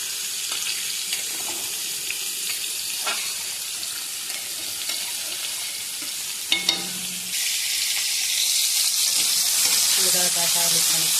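Sautéed meat sizzles steadily in a pan with occasional stirring clinks, then water poured in makes the frying surge into a louder, broader hiss, with a brief voice near the end.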